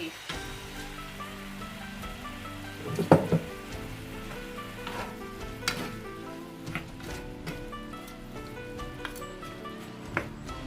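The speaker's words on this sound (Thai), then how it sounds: "เดี๋ยวเราจะผัดไปอีกแป๊บหนึ่งเนาะผัดไปอีกแป๊บหนึ่ง" Eggplant stir-fried in a pan with oyster sauce gives a steady, close sizzle and crackle, with a sharper clatter of the utensil about a third of the way in and lighter scraping taps after it.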